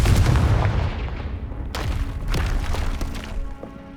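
A Confringo fire spell blasts in the Hogwarts Legacy video game, a heavy booming explosion followed by crackling impacts and a second sharp burst, loud and close.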